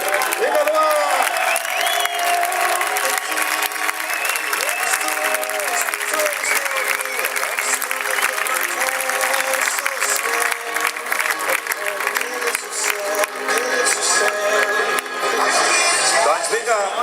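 An audience applauds steadily at the award ceremony of a 24-hour motorcycle endurance race, dense sustained clapping under an announcer's amplified voice.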